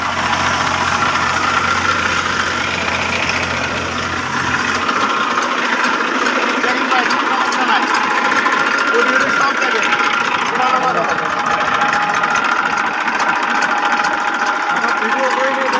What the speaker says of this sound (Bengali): গাড়ির ইঞ্জিন সাউন্ড তো আপনারা শুনতে পারতেছেন ইঞ্জিন সাউন্ডটাও মোটামুটি ভালো আছে